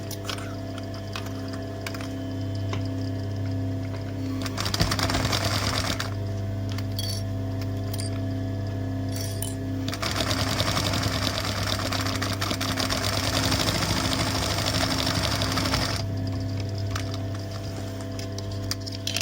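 A sewing machine stitches over pinned fabric while making a face mask. Two bursts of fast whirring run about five and six seconds over a quiet background hum, with no speech.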